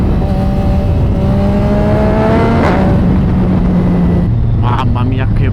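Yamaha MT-09 2018 motorcycle engine revving hard through the gears on a test ride, pitch climbing then dropping at each shift, loud and close with heavy wind rush.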